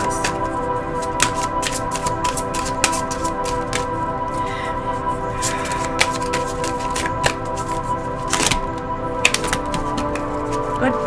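Tarot cards shuffled and drawn, a soft papery riffling and occasional sharp flicks heard close over a constant droning musical backdrop.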